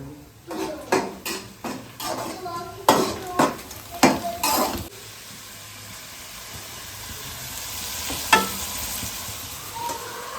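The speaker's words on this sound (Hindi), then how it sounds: "प्याज ब्राउन हुआ है, अदरक लहसुन शामिल किए, इसमें चिकन शामिल किए" Chicken cooking with browned onion, ginger and garlic in a village kitchen pot: a metal spoon clatters and scrapes in quick bursts for several seconds, then a steady, close sizzle of frying carries on.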